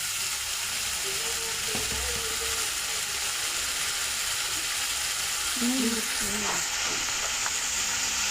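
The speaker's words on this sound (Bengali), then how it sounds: "এবারে আমি এই মশলাটাকে ভালো করে এই যে কষিয়ে নেব" Spice paste with ginger and garlic being sautéed in a pan for a rohu fish curry, a steady close sizzle with occasional scraping stirs and a brief voice in the background.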